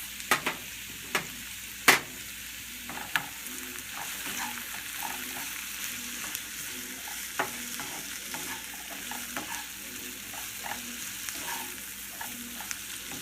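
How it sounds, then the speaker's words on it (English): A cup of mushrooms sautéing in a pan over low-medium heat, a steady gentle sizzle with intermittent scrapes and taps of stirring, no voices. "And you're going to saute this for maybe like 3 to 4 minutes."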